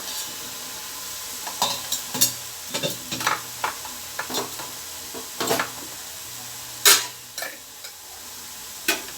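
Boondi drops frying in hot oil for bakery-style laddu, with repeated crackly sizzling bursts and scraping stirs at an irregular rhythm, close and moderately loud, no talking.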